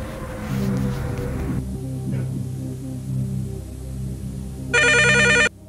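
A telephone ringer sounds in one short, loud burst near the end, after a stretch of steady hum and static, with no speech over it.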